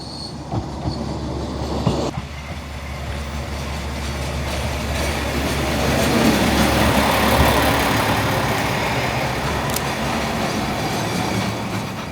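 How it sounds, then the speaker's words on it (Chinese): A train rumbles into Nishi-Oyama station in Japan close by, its engine and wheels building to a loud, sustained roar with a faint squeal of rails. "这块要来一个火车"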